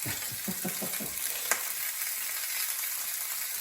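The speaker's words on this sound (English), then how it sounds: "I'm gonna add little knobs of butter next to our fish" Hake fillets fry in a pan with small knobs of butter, giving a steady, close sizzle that hisses throughout, with a few soft knocks at the start and one brief clink.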